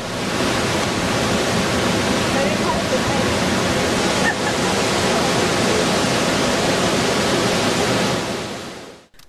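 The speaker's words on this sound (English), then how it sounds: "Situated mid-river between two explosive waterfalls, this island hideaway is unbelievable." Explosive waterfalls on the Nile river in Uganda, seen from a mid-river island, roaring as a dense, constant wall of rushing water, loud and unbroken throughout.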